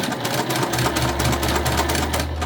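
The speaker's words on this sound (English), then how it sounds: "we're just gonna go ahead and sew both of our exterior and interior together" A sewing machine runs steadily, stitching the exterior and interior of a beginner-friendly cotton tote bag together. Its motor gives a continuous close-up whir with a low hum underneath and no break for the whole stretch.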